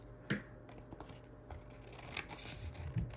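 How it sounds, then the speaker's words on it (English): Scissors snip through paper scraps trimming the overhang on a junk journal tag, giving a few quiet, close clicks and crisp cuts spread irregularly over a faint background. "now I'm gonna take my scissors and just cut off any like overhang"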